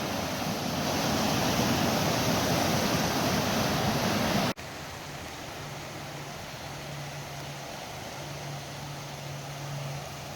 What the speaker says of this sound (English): Class 5 rapids right in town.